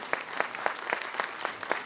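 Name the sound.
conference audience clapping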